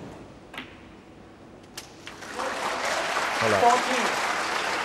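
Spectators at an Asian Games snooker quarter-final break into applause partway through, a soft swell of clapping that follows a few quiet knocks, with brief speech at the start.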